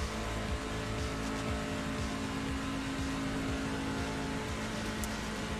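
Race truck engine lapping Talladega in the iRacing video game: a loud, continuous high-revving engine drone held steady for several seconds with no talk.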